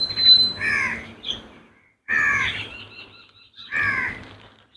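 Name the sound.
many crows cawing while being fed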